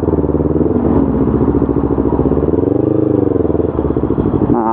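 An older Yamaha R25 motorcycle crawling through traffic jam, its engine a loud, close, steady throbbing drone with slight rises in revs and a brief throttle change near the end.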